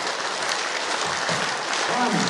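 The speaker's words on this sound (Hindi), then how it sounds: "योगिक ताली मनोज जी" Rhythmic group clapping at a mega yoga camp held in a garden hall in Indore, a steady wash of many hands striking together for a couple of seconds, fairly loud and close, with a faint voice underneath.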